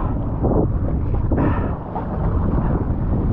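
Wind gusts buffeting the microphone while wing-foiling on open water, loud rumbling swells that surge and fade, with no talk.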